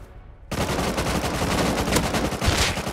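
Gunfire in the video game Rust, starting abruptly after a brief quiet moment and continuing as dense, rapid shots with a few louder cracks standing out.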